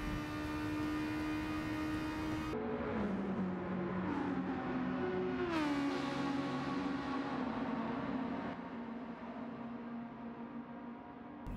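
A Daihatsu Copen races in Gran Turismo 7, its small engine droning loud and steady, then dropping in pitch through gear changes and climbing again as it keeps accelerating.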